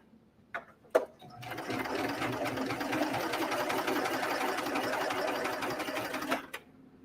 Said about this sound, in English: then we're gonna sew on that bottom edge of the elastic